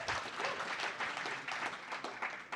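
Dense, continuous applause from an audience fills the whole stretch, a steady wash of many hands clapping at once with no single claps standing out, fairly loud and close throughout.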